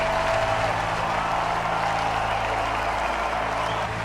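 Steady, dense applause from a group keeps up without a break, fairly faint and even throughout, with a low hum underneath.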